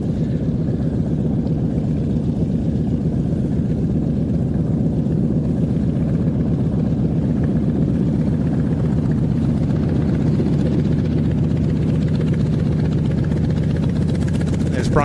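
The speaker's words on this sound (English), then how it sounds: "the Wildcat returning to its parking spot" A Grumman Wildcat warbird's piston engine rumbles steadily at low taxiing power as it rolls back to parking at an airshow, a continuous close drone with a commentator talking over it.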